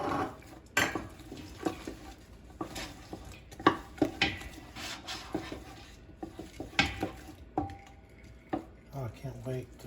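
Onion being stirred in a pot, a spoon clattering and scraping against the cookware in uneven bursts over a faint sizzle, with soft speech-like sounds mixed in.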